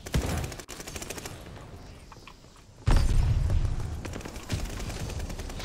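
Shotgun blasts in the Call of Duty Vanguard multiplayer game: heavy, booming reports with a loud burst near three seconds, set among a steady crackle of further gunfire and a clattering mechanism.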